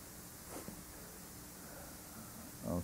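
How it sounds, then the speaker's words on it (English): Pink noise test signal plays from a test record through a turntable cartridge, a steady broadband hiss throughout with a few faint background bumps. No talk. "I'm playing pink noise connected to my test system, and it shows you frequency response"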